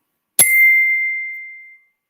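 A single high kalimba note is struck once, sharp and bright, then rings out alone and slowly fades to silence.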